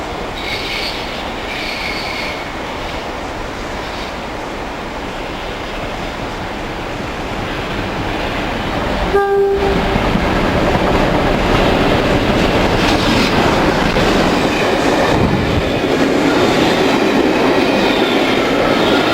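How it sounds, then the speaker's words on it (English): A train, the Royal Scotsman, rumbles steadily and grows louder, with a short squeal and rising clatter as it approaches. "I think in the distance I can hear the Royal Scotsman coming."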